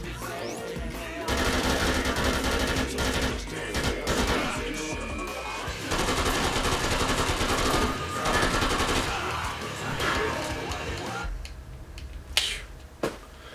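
Light machine gun fire in the zombie game Dead Rising 2: long, dense, loud bursts of rapid automatic shots with brief pauses, ending with a few sharp isolated cracks.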